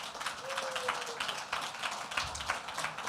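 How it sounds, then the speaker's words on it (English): Applause from an audience at a Bend community housing event, a steady wash of clapping acknowledging board members, fairly faint and distant. "Round of applause."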